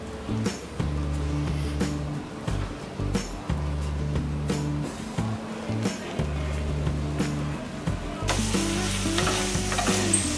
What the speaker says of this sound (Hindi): हम इसे लो फ्लेम में कुक कर रहे हैं और कंटिन्यूअस स्टर करते रहेंगे